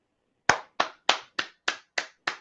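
One person claps their hands in a studio during a talk-show greeting, seven crisp, evenly spaced claps about every 0.3 seconds, close and isolated against near silence, with no voices over them.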